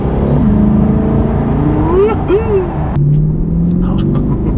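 A Chevrolet Corvette C8 accelerates hard, its engine note climbing through rising revs with a sharp shift partway, loud and close from inside the cabin, with a voice speaking over it.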